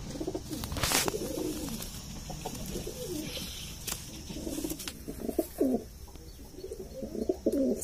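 Several soft, rolling coos of a grey pigeon repeat close up, with occasional sharp clatters in between and no talking.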